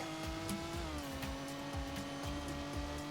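A sports car drives in the video game Car Crushers 2, a steady synthetic engine drone that drops in pitch early on, with a repeating rhythmic thumping underneath and no talking.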